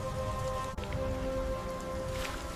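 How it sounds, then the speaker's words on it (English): Acid rain falls steadily, a dense hiss of drops on surfaces, moderately loud and continuous with a brief dip near the start, no voices. "Then came the rain. Not water, but corrosive acid."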